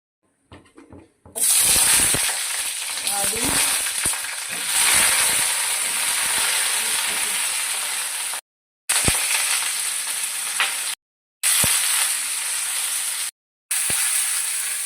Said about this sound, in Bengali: এইটুকু তেল দিয়ে ফুলকপিগুলো ভেজে নেবো